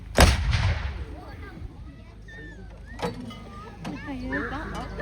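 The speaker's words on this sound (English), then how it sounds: "Number two gun ready. Number two gun. Fire." A large field artillery gun at a wartime vehicle show fires with one sharp, loud blast near the start and a booming tail. Fainter thumps and bangs follow, and people talk in the background.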